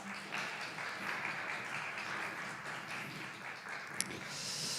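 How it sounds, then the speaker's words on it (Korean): Soft, even applause from a large congregation at a church youth worship service, a continuous distant-sounding patter of clapping with one sharp tap near the end. "우리 하나님께 영광의 박수 올려드리겠습니다."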